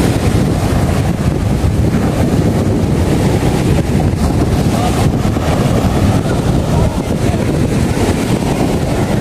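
Strong sea waves crash and wind buffets the microphone on Subic Bay, a loud, continuous roar of surf and gusting air with no pauses.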